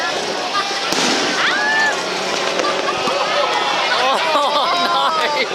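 A firework in Thailand fizzes and crackles as it veers into a tree and sets it burning, with whistling streaks and sputtering bursts over constant excited talk and crowd noise.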